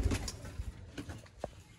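Sialkoti pigeons making soft, low coos and rustles close by, with a few brief calls and one sharper note near the end, no voices over them.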